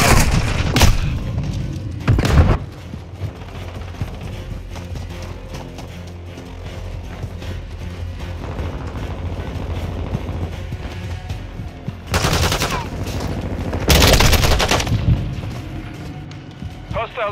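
Gunfire and explosions in Call of Duty Modern Warfare 2 multiplayer, with several loud booming blasts standing out near the start and again toward the end over a continuous rattle of distant shots and game callouts.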